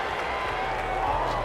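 Dense, steady roar of a home crowd at a football game, continuous cheering and clapping filling the stadium with no breaks.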